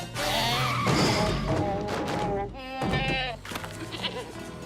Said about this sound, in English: Is that a goat?